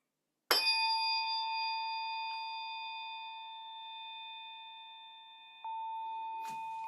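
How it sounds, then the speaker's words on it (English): A 144 Hz tuning fork is struck and rings with a clear, sustained metallic tone that slowly fades, then is struck again near the end with a second bright ring, all in near silence. "I'm pointing the tuning fork up your spinal cord to the top of your head"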